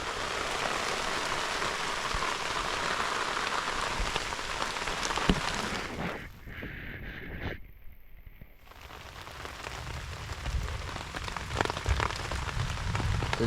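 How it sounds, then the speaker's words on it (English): Rain patters steadily and close on a tent fabric in the Northern Territory outback, a dense hiss of drops that briefly thins out in the middle before returning. "waiting for the rain to find out if you're going to be dry."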